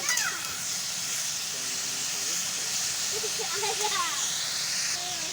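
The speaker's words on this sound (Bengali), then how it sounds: "পটল আর আলুটা ভালো করে ভেজে নেব আগে" Pointed gourd and potato pieces frying in hot oil in a pan give a steady, loud hiss and sizzle throughout, with faint voice-like tones mixed in the background.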